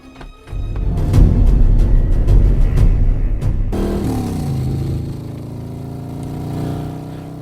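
A motorcycle engine runs steadily close by, a low rumbling drone after a brief quiet start, swelling in the first seconds and then holding level with a slight rise near the end.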